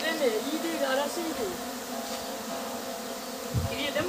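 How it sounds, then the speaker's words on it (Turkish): A honey bee buzzing near the microphone, a wavering, droning hum that rises and dips as it moves, fairly close, over a faint background hum with a soft thump near the end. "Dışarıdan geldi bu arı."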